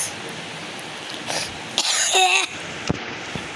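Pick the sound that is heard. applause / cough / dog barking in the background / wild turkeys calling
cough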